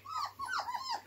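A dog whimpering while playing with soft toys in a toy box, a few close high whines in quick succession.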